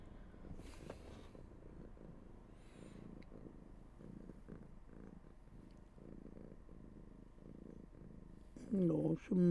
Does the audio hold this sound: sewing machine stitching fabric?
no